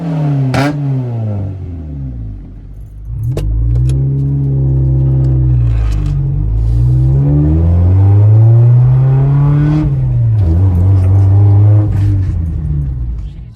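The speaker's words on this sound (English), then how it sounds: "no more weird misfires and pops. It just idles perfectly. Hardly any engine shake" A repaired car engine runs close and loud, its rumble rising and falling in pitch through several smooth rev swells before settling back, with no one talking over it.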